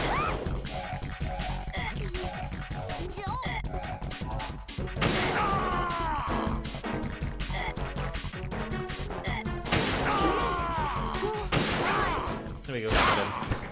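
Gunfire from the stealth-action game Metal Gear Solid 2: Sons of Liberty during a boss-music section, several sharp shots and crashes over dense game music, with someone talking briefly.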